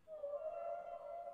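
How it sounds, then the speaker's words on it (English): A whale call played back by a Google Assistant smart speaker: a single steady, tonal moan held for over a second, faint and alone. "This is a whale."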